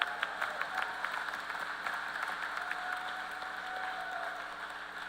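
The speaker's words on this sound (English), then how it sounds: "You can clap." Graduates and guests at a university commencement ceremony clap in a steady, distant patter that fills the hall, quiet and even throughout with no one speaking.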